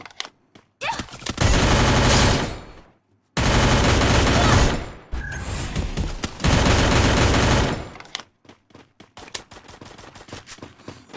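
Rapid automatic gunfire in the video game Free Fire rattles in long, loud bursts with short pauses, followed by scattered single shots and clicks.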